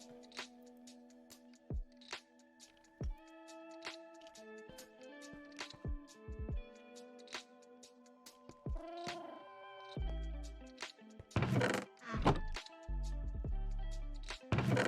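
A cat meows in the Minecraft video game while the player sorts chests. Short, tonal in-game mews and soft thunks come over a quiet bed of game sounds, with a denser burst of noise near the end.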